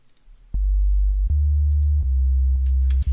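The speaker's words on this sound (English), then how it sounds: "which is literally just a sine wave from operator" Deep sub-bass sine tones from the Ableton Operator synth play as a series of sustained low notes, each starting with a small click, loud and smooth with no other sound.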